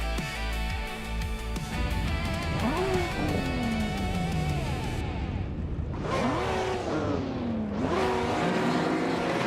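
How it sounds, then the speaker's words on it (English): Race cars starting a race at Circuit Paul R. McNack in a video game, engines roaring and revving up through the gears with rising and falling whines, loud and continuous, several cars close together. "the race just kicked off at Circuit Paul R. McNack"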